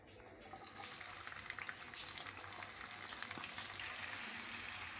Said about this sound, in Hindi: प्याज को हम अच्छे से फ्राई कर लेंगे, लाइट गोल्डन कलर कर लेंगे प्याज का।